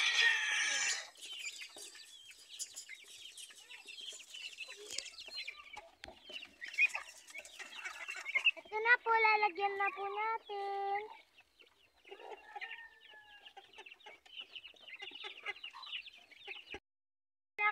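Chickens cluck and squawk close by in bursts, with a person speaking briefly over them and some rustling handling noise.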